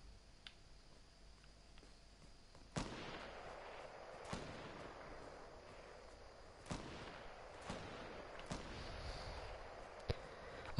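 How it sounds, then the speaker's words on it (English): Sparse gunshots from Fortnite Battle Royale crack out one at a time at irregular intervals, sharp but fairly distant over a low background hum. "I can hear like gunshots going off."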